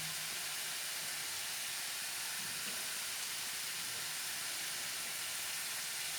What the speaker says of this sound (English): Once the oil gets heated, you have to cook and fry it in medium flame.